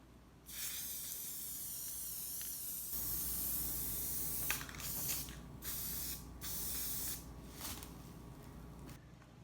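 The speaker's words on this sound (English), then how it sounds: "I'm just taking those items and spray painting them a solid color now" Steady hiss of a spray paint can coating decor items a solid color, in long bursts with short breaks between, close up and fairly quiet, no voices.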